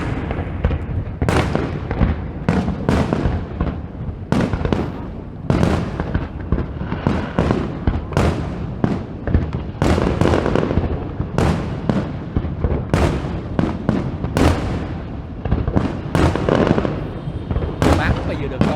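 New Year's 2016 fireworks burst close by in a dense, loud barrage of booms, pops and crackles that overlap almost without pause, while people chat nearby.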